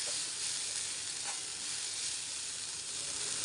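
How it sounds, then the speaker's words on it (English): Moringa leaves sauteing in a hot pan give a steady, loud, close sizzle and hiss that runs unbroken throughout, with no voices. "Saute this for few minutes and cover and cook it."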